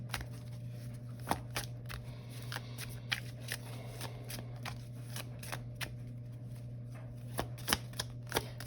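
Deck of cards shuffled to draw one, a steady run of soft riffling flicks and crisp snaps at close range, quiet and without talk over a low constant hum.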